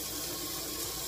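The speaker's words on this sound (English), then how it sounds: "Let's start with some hot water." Hot water pouring steadily from a kitchen tap into a cast iron pan for everyday cleaning, a continuous broadband hiss with no talk over it.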